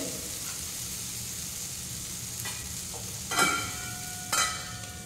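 Paneer tikka filling being fried in a pan to dry off its moisture makes a low, continuous sizzle, with a few short stirring scrapes standing out near the end and no speech.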